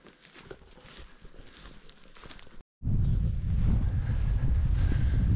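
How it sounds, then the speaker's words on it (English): Strong wind in a Scottish valley buffets the microphone in a loud, continuous roar after a brief drop-out, preceded by quieter rustling gusts. "It's so windy at this point in the valley."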